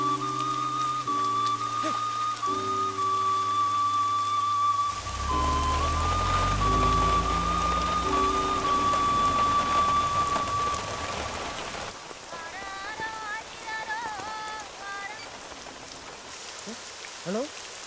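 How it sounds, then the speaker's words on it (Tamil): Rain falling in a steady, dense patter that fills the scene, mixed with whistling music tones and a film soundtrack, and a few faint voices underneath. "ஏய், மழை பெய்யுதுடா"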